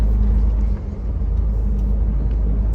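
Semi-truck hauling a trailer through a winter snowstorm, a loud, steady low engine and road rumble close by with no clear breaks.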